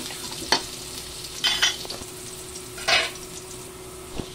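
Garlic being sautéed in a frying pan for pork and chicken afritada, a soft background sizzle broken by a few scraping stirs of the spatula, close and without talk.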